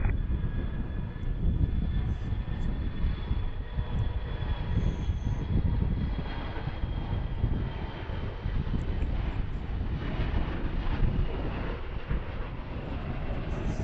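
Airliner jet engines at Harrisburg airport on a clear afternoon, a steady, loud, broadband roar that holds evenly throughout with no talk over it.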